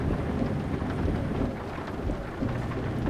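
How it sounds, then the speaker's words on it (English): Rain falling during a drive in Euro Truck Simulator 2 on a route from Norway to Denmark near Odense: a steady, even hiss of rainfall with low rumbling, continuous and moderately quiet, with no voices. "I wonder if the rain will go off though"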